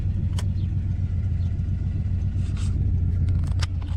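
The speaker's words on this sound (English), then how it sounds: "we're downshifting instead of using just our brakes" A 1976 Dodge D100 pickup with a 440 engine rumbles steadily while downshifting on the road, a low, continuous drone heard from inside the cab with no talk.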